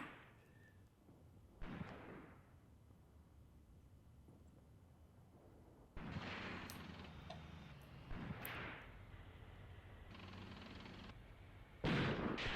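Gunfire and distant explosions from a World War II battle in the Graviteam Tactics war game, with sharp broadband shots and bursts at irregular intervals, some near and loud, others muffled and distant, over a constant low rumble of battlefield ambience.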